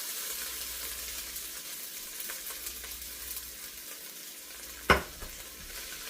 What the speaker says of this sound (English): we're just going to saute them up, get them soft.